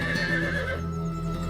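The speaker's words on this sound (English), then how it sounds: "there's a horse." A horse whinnies outdoors in a drawn-out, fairly close neigh that fades into a low steady background hum with faint movement.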